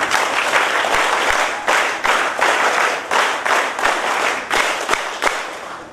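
An audience at a farewell function of an SKDRDP de-addiction camp breaks into loud, close applause, with several bursts of vigorous clapping that swell and ease in waves.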